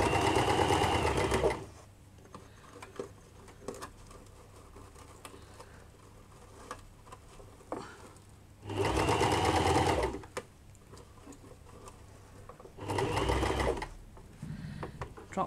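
A sewing machine stitches fabric for a flower flounce in three separate loud runs of rapid, even whirring, with quiet pauses between them.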